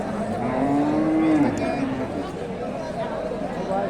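A crossbred Friesian cow at a cattle market gives a long, low moo that rises and falls, close by, with a faint murmur behind it.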